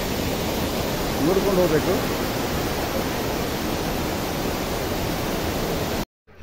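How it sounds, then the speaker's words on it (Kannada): A waterfall in the Western Ghats near Chikkamagalur roars as a steady broadband wash of falling water, loud and continuous, with someone speaking briefly over it before the sound cuts off abruptly near the end. "ಅದ್ಭುತವಾದ ಫಾಲ್ಸ್ ಬರ್ತಾ ಇದೆ. ತುಂಬ ಸುಂದರ ಪರಿಸರದಲ್ಲಿ ಫಾಲ್ಸ್ ಇದೆ."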